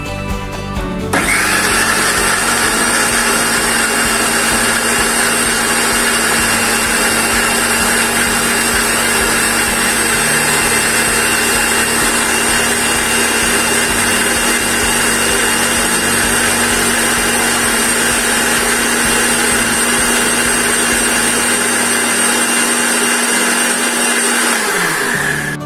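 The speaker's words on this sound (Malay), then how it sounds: "Kita akan blend sampai dia hancur." Kitchen blender whirring steadily as it purées warmed mushroom soup ingredients, a loud, close, continuous motor whine that starts abruptly and runs unbroken for about twenty-four seconds before spinning down.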